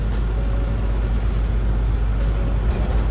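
A bus rolling along a road, a loud steady low engine and road rumble with broad noise throughout and no breaks or voices.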